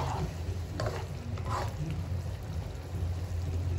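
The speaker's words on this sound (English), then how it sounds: "So mix this up well." Vegetables sizzle steadily in a pan after a tablespoon of vinegar is added for Manchurian chicken, with a spoon stirring through them in soft scraping pushes, close and continuous.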